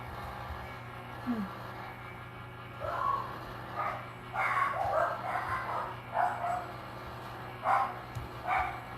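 Several dogs bark and yip in a run of short bursts, at moderate distance in a home, with a faint whimper in between.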